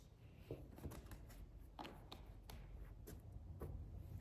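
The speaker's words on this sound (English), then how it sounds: "I'm gonna continue shuffling cards." Tarot cards being shuffled by hand in a steady rhythm, soft riffling and tapping strokes repeating every half second or so at close range, fairly quiet with no talking.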